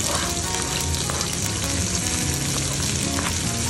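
Sliced onions fry in a pan with cumin for baingan bharta, a dense, continuous close sizzle with occasional stirring.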